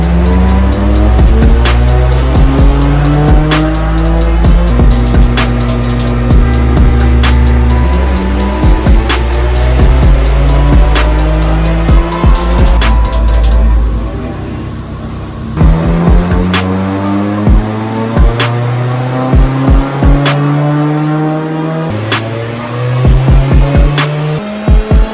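A Ford Fiesta roars on a dyno during an intercooler comparison, with the engine pulling up through the revs in repeated loud sweeps, sharp gear-change breaks and a short drop near the middle before another run.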